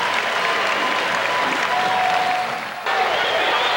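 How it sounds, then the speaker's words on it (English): Detroit Pistons fans at the Palace arena applaud during a timeout late in an Eastern Conference Finals playoff game against the Bulls, a steady, dense wash of clapping filling the building for several seconds without a break. "It's been a nice touch by the fans of the Detroit Pistons here at the Palace as they continue to applaud for the Pistons."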